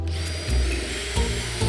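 A power drill whirs close by in short bursts, its motor rising in pitch as it drives screws, pausing briefly between pulses.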